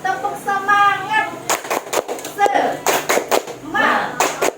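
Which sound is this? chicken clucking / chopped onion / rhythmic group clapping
rhythmic group clapping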